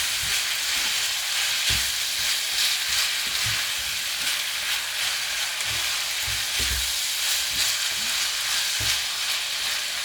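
Chilies and coriander powder sizzle and fry in a pan while being stirred, a loud steady crackling hiss with irregular soft knocks of the spoon against the pan throughout.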